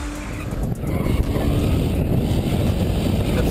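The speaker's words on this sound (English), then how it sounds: "The fact he can hold a slide for that long, man, with that little horsepower" A BMW M5 with a roughly 3.4 to 3.6 litre engine holds a long sideways drift, a continuous loud roar of engine and tyres heard from nearby with heavy wind buffeting and no talk.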